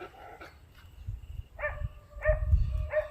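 A dog near a hillside fort trail near Lonavala barks in short bursts, several clear yelping barks spaced out over a few seconds, fairly close with some low rustling underneath.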